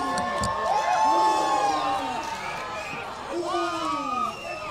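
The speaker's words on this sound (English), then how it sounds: "Cheers erupt across the area" A crowd outdoors in Marion, Ohio cheering at a total solar eclipse, with whoops and shouts rising over a steady roar of many voices, loud and continuous.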